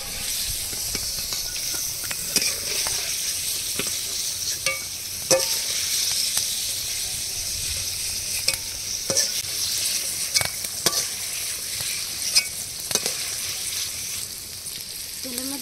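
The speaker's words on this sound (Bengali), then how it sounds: "হালকা করে ভেজে নিয়েছি, এবার তুলে নেব।" Vegetables fry lightly in a pan for a vegetarian meal, with a constant close sizzle and hiss. Sharp spatula clicks and scrapes come at irregular intervals throughout.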